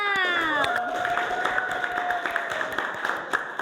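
Clapping and cheering from a classroom group at an Indonesian teacher-training session, a steady wash of applause with children's shouts under a loud sustained voice that glides downward.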